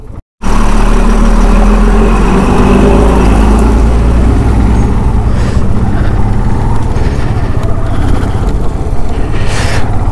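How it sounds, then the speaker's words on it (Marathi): Traffic on the Zojila mountain pass: a loud, steady rumble of idling vehicle engines that holds throughout at close range, with a slight swell near the end. "ट्रॅफिक खूप आहे मित्रांनो."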